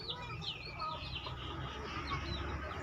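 Native Thai backyard chickens cluck and chirp continuously at moderate distance on a rural farm, with someone talking faintly underneath.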